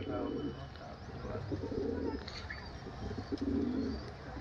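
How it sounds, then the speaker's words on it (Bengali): Large pigeons coo softly in repeated low throaty bursts close by, with someone talking over them. "তো এটা মাদা পায়রা"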